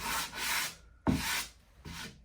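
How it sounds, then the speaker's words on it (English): Three short bursts of hand sanding on drywall, each a dry, raspy scrubbing stroke, close and fairly quiet. "Give it a nice sanding. Smooth everything out."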